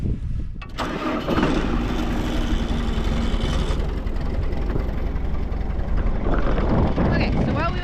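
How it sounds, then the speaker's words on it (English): A tractor engine cranks and catches, then settles into a loud, steady running rumble that continues unbroken to the end. "I'm gonna start my tractor"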